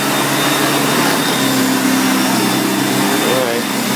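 A 1990 Electrolux 616 vacuum cleaner picks up sawdust, its motor a steady loud drone with a slight pitch shift near the end, while a person speaks over it.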